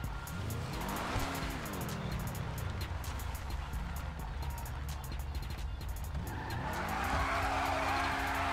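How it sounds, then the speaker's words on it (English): A Hennessey Camaro ZL1 Exorcist doing a burnout in GTA 5, a 2017 model with a loud sustained tire squeal over a roaring engine whose pitch rises and falls as it revs. "Warm them tires up real quick."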